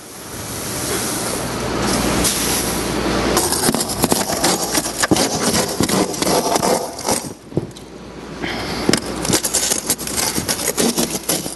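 A loud engine powering a rescue hydraulic spreader runs steadily with a rumbling roar, overlaid by metallic clanks and crunching bursts from close-by work cutting door hinges at a simulated car crash.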